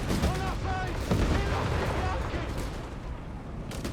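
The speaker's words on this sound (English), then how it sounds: "anti-tanks keep blasting away at his M1340s" In a Company of Heroes 3 match (DAK versus USF), anti-tank guns fire at M1340 vehicles. Dense, rumbling battle booms keep up throughout while a commentator talks over them.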